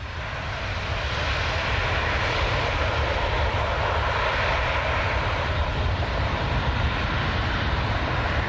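Turkish Airlines Boeing 777 jet engines roaring at Toronto Pearson airport at night, a loud, steady broadband rumble and whoosh sustained without break throughout.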